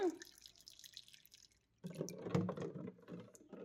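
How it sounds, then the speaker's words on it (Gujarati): Cold water is poured into a glass holding amla syrup for sharbat, a short splashing trickle after a quiet pause, close and soft. "અને હવે એમાં ઠંડુ પાણી એડ કરવાનું છે."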